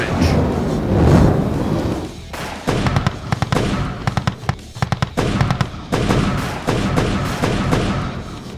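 Gunfire effects in a stop-motion war battle: a booming blast followed by rapid bursts of crackling shots and pops, loud and close, continuing in irregular volleys.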